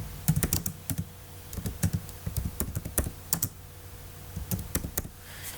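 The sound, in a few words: typing on a computer keyboard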